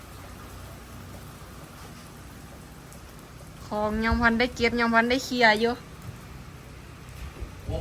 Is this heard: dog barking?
no